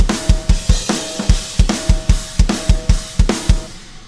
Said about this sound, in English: So all the drums put together will sound like this.